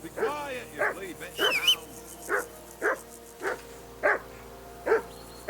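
A dog barks in Kingdom Come: Deliverance 2, a string of about eight close barks at an even pace, with a brief whine among them and low background ambience.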